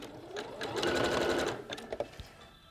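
A sewing machine runs a line of zigzag stitching on a bra in one close, brisk burst of fast rhythmic whirring, then winds down with a few separate clicks and knocks.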